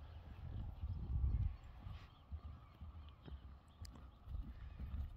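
Hooves of a gateado criollo crossbreed horse clip-clop at a slow, uneven pace on the ground, with soft scuffs and a faint outdoor background of fowl calls, fairly close and moderately quiet.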